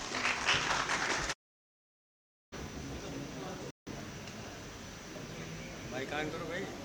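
An audience applauds at a mehfil gathering to welcome the singer. The clapping is broken by abrupt silent gaps, and voices can be heard in the hall.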